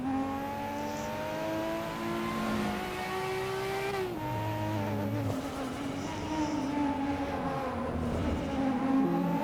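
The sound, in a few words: Nissan Skyline R34 GTR engine in video game Assetto Corsa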